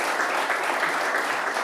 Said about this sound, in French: On peut applaudir Bernard Stamm, mesdames, messieurs, ici au PC